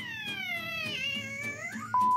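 A single drawn-out cat meow with a rising, wavering pitch, followed by a brief steady electronic tone at the end.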